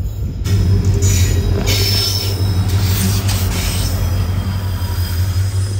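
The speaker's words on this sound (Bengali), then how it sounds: "ঢুকে গেল আগরতলা এক্সপ্রেস।" Agartala Express train pulling into a station on the Silchar to Agartala line, a loud steady rumble of wheels and railcars with high metallic squealing from the wheels throughout.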